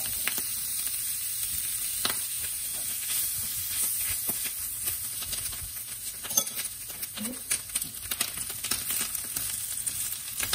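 Soya meat fries in a pan with a teaspoon of margarine, the heat just switched off, giving a steady close sizzle and hiss with occasional faint clinks from stirring.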